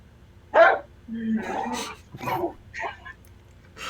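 A dog barks in short bursts during a Star Wars tabletop roleplaying session, with people talking over and around the yaps.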